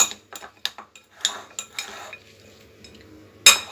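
Vegetable sandwich stuffing being mixed with salt and black salt in a bowl, heard as a string of sharp spoon clinks and scrapes that then fade into quieter rustling, with one last loud clink near the end.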